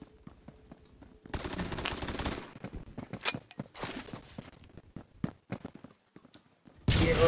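Gunfire from the shooter game Phantom Forces, with a sustained automatic burst followed by scattered single shots and short volleys of varying loudness.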